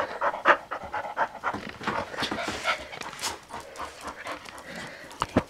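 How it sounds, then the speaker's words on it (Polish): Several excited dogs pant rapidly and loudly close by, with occasional whimpers and a few soft thumps, no talk. "Co to za jakieś cieszące się pieski?"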